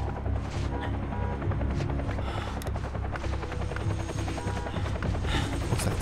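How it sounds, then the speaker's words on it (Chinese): A helicopter searching overhead in the video game Quantum Break, its rotor chopping in a steady, loud, continuous pulse with a deep droning hum and no voices. "直升机搜索，他们开始在追我们了"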